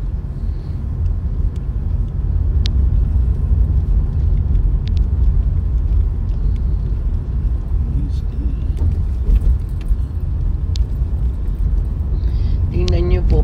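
Cars speed past on a dark early-morning road, making a loud, continuous rumbling roar that swells and fades under the steady engine noise of the vehicle doing the recording.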